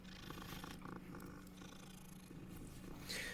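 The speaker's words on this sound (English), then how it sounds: "I hear another cat." A cat purring in Hogwarts Legacy, a steady, soft, close rumbling purr that continues alone for a few seconds.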